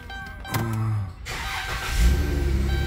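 A 2012 Chrysler Town & Country minivan engine cranks briefly, catches and settles into a steady, close idle with a slight rise in revs.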